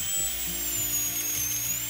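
An electric screwdriver fitted with a blade whines at a steady high pitch while drilling a hole into a watermelon, continuous and close with a slight wavering tone.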